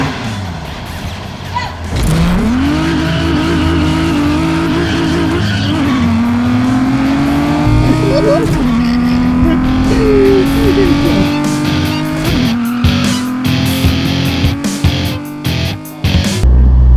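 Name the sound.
street racing car sounds from speakers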